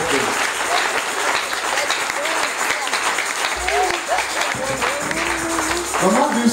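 A church congregation claps loudly and continuously, dense applause filling the space while voices shout and call out over it.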